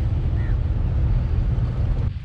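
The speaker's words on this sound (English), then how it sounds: "currently it's quite windy and the water is very choppy" Steady, heavy wind buffeting across the whole clip at Marina South Pier, Singapore, low and rumbling with a faint wash of choppy water beneath, no voices.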